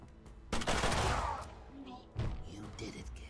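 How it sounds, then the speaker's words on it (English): Gunfire in the turn-based tactics game Mutant Year Zero: Road to Eden: a loud burst of shots starting near half a second, then a second sharp blast around two seconds, with background game sounds and faint voices in between. "I'm gonna shoot this guy as well"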